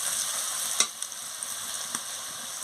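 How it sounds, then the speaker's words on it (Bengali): A turmeric and chili powder masala frying in a pan makes a steady hiss, with a sharp tap of the stirring spoon followed by a few lighter clicks, no talking. "দিয়ে ভালো করে মশলাটাকে কষিয়ে নিচ্ছি।"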